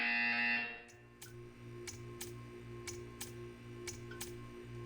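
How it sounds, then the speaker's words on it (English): In the video game Portal 2, a steady electronic buzzer tone sounds loudly for about half a second and cuts off. A faint, regular mechanical ticking follows, with no talking. "You will hear a buzzer. When you hear the buzzer, stare at the art."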